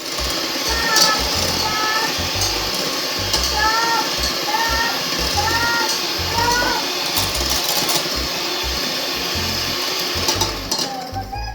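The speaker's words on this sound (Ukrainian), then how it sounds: "все гарно збиваємо міксером до пишного стану" An electric mixer whips eggs, extra yolks, salt and sugar, giving a steady whirring drone with short bursts of higher-pitched motor tone, while a voice talks over it throughout.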